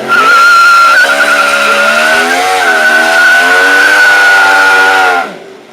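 A Yamaha R1 stunt bike on Pirelli tyres screeches in a long, loud, sustained tyre squeal as the rubber burns, with a steady engine drone underneath that wavers in pitch before the sound cuts off abruptly near the end.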